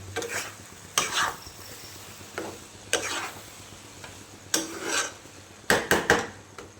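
Spices and peas for a Bengali egg-and-pea tadka stir-fried in a pan, with intermittent scraping and stirring strokes over a soft steady sizzle, loudest in a quick cluster of scrapes near the end.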